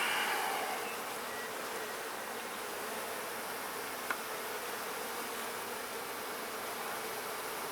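Honey bees hum in an open hive during an inspection of a queenless colony, a steady close drone of many wings that holds even throughout, with one faint click partway through.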